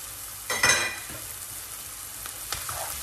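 Garlic and ginger stirred into a hot frying pan for a peanut-butter coconut-milk chicken, a brief burst of scraping and sizzle early on, then a quieter steady fry with a small clink near the end.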